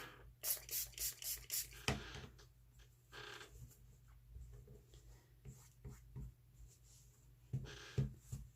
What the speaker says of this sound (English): I'm going to spray this with a little dab of water.